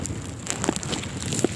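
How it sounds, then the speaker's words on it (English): Strong wind in a winter blizzard with whiteout conditions roars steadily and buffets the microphone close up, with loud gusts throughout. "I'm just can't show my face because of the wind. It is very strong."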